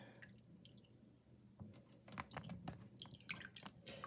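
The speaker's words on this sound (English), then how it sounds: "I'll let it drip just a minute." Hot water dripping from freshly washed merino wool, faint close drips and soft squishy wet sounds in irregular rhythm, no talking.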